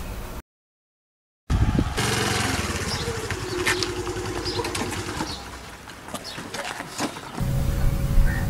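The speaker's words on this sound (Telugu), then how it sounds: "స్కూటీ నడుపుతూ కూడా స్పోర్ట్స్ బైక్లా ఫీల్ అవుతున్నాడే" A scooter's small engine drones steadily while it is ridden, breaking in after a brief silent gap and running as a rough, buzzing hum at moderate volume.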